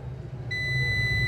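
A multimeter in continuity mode gives a steady, high, pure electronic beep as its probes touch a Samsung A04s phone circuit board; the tone starts abruptly partway through and holds, close and clear, over a faint low hum.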